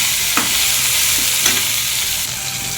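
Tomatoes sauté in a pan for wedding-style sambar, giving a steady, loud crackling sizzle with a few soft spoon stirs and no speech.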